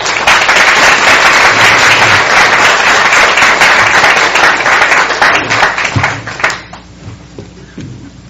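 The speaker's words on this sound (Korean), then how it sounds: "우리 박수로 환영하시길 부탁을 드리겠습니다" A church audience at a Genesis seminar applauds loudly to welcome a pastor. The dense clapping is sustained for about six seconds, then thins out to a few scattered claps.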